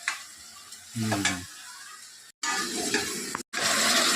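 Chicken curry with turmeric and spices sizzles in a pan while a spoon scrapes and stirs it, the frying hiss loud and close, broken by two abrupt brief gaps.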